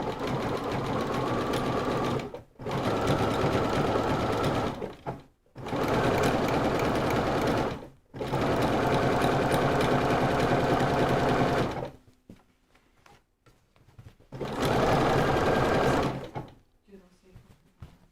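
A sewing machine stitching in bursts during a dessert-themed sew-along, each run a loud, steady mechanical whir lasting a few seconds with short pauses between, close by, with a person talking quietly during the gaps.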